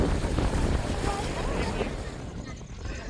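Steady rush of choppy river waves washing close by near the Gaganachukki–Bharachukki waterfalls, mixed with gusty wind buffeting the microphone, continuous for a few seconds.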